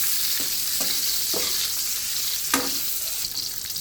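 Hotdogs fry in hot oil with a steady loud sizzle and crackle, broken by a few sharp pops and stirring scrapes.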